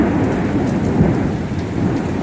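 Heavy rain pours steadily during a summer hailstorm in central Florida, loud and dense, with low rolling thunder rumbling underneath throughout.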